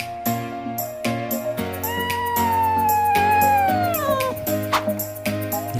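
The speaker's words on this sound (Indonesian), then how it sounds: "kucing." A domestic cat meows in drawn-out, wavering cries over steady background music that runs throughout.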